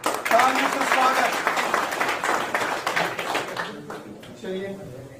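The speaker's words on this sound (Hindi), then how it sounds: "तालियों से स्वागत।" An audience at a political party joining event claps to welcome new members, a dense burst of applause that fades out after a few seconds, with voices talking over and after it.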